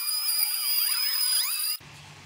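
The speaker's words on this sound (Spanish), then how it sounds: "Pasar un poquito más de lija, aunque odio lijar." A high, whining rotary tool runs steadily while sanding the wood of a lamp, then cuts off abruptly near the end, leaving a faint low hum.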